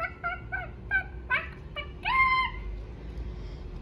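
A person imitating a hungry chicken, a run of short clucking calls followed by a longer drawn-out squawk, fairly close and clear, then quiet background.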